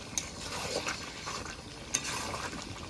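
Hajam guti cooks with fried potatoes in oil, giving a faint, steady sizzle, with soft scraping stirs and a couple of sharp clicks of a utensil against the pan.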